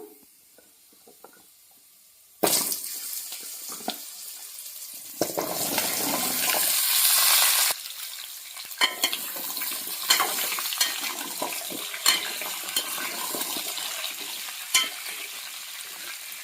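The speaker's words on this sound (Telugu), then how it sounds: "ఒక 2 మినిట్స్ ఆయిల్లో మగ్గనిద్దామండి." After a quiet start, a loud sizzle bursts out as small pumpkin pieces hit hot oil, followed by steady frying with scattered crackles and stirring scrapes.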